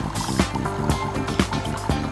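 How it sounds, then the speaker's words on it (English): A NESCAFÉ Dolce Gusto Piccolo XS coffee machine rinses with water, giving a close, steady pumping hum broken by regular thumping pulses about every half second. "Piccolo will start rinsing."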